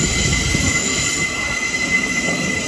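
A Thameslink Class 700 electric train pulls into a London terminus, its wheels squealing steadily over a rumbling rail roll, close and fairly loud throughout with no voices.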